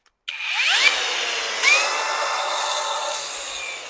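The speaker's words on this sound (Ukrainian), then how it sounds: "Ось маємо таку болгарочку. Можна включити, як працює." A cordless angle grinder is switched on: a sudden start, then a steady, fairly loud whirring whine that rises briefly as it spins up and runs on without pause, with no voices.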